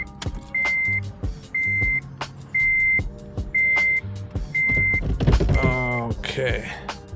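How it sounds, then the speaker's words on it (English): A Honda car cold start: a warning chime dings steadily several times, then the starter cranks and the engine catches near the end. "let me just go ahead and give you guys a cold start"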